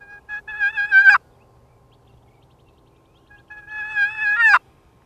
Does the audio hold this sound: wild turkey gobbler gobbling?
yes